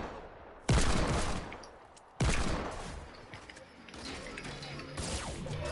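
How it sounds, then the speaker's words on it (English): Two sharp, loud gunshots about a second and a half apart, each cracking out and trailing into a long echoing decay, with softer scattered noises afterward and no talking. "No! I hate those shots, Josh."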